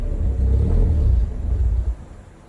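A 2004 Mazda RX-8 rotary engine with an idle fault runs at a low, rough rumble that wavers and sinks away as it stalls, close up with no talking.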